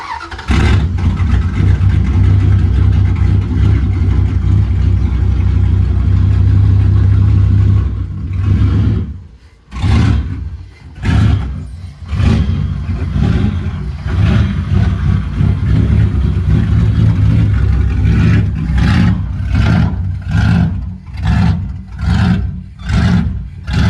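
A car engine runs loudly and steadily after starting, then breaks into a string of rhythmic revs and surges, each rising and falling, close and powerful with no talk.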